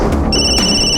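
A phone rings with a bright electronic ringtone, loud and close, its chirping tone starting partway through with no one talking.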